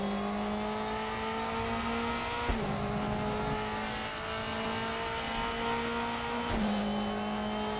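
A 2005 Mercedes DTM race car roars loud and close on the Nordschleife, its engine holding a steady high pitch, with two sharp gear shifts or lifts breaking the drone.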